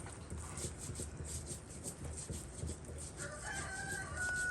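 A strong local rooster crows near the end, faint and somewhat distant, rising over a low background rumble.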